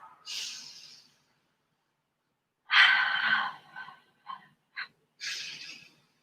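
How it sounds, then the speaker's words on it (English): Elongated Pilates breathing, long drawn-out inhales and exhales, close and breathy, with a few short breath catches between the longer breaths and quiet gaps. "we are going to do elongated breathing."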